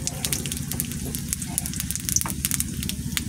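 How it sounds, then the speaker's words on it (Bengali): Spices temper in a hot pan with oil for a vegetable curry, giving a steady crackling sizzle with sharp pops throughout while a voice speaks faintly in the background. "কড়া পাকাই দিলাম, ফোড়ন দিলাম"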